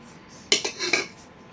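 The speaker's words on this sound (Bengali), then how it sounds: "এখন এই যে খাওয়া দাওয়া করার জন্য সবার জন্য ভাত বেড়ে নিচ্ছি থালাতে।" Dishes and cutlery clink as rice is served onto plates for a shared home meal, a short cluster of three or four sharp metallic knocks and rattles in an otherwise quiet room.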